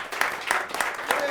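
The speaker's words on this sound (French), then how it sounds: "mais on l'applaudit quand même" Applause at an event, several distinct bursts of hand claps spaced roughly a third of a second apart, fairly close and moderate in loudness, with no speech over it.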